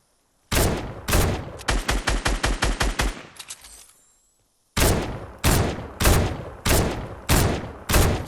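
Thermal scoped assault rifle fired in Fortnite: a couple of heavy single shots, then a quick string of about nine rapid reports, a short pause, and four more spaced, loud, punchy shots.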